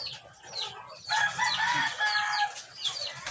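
A pair of laying hens clucking close by, a burst of loud, rapid overlapping clucks and cackles after a quieter start, with no talk.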